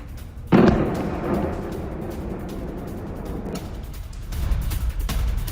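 A single heavy blast from a military strike booms out near the start, then a long rumbling roar trails off into steady background noise.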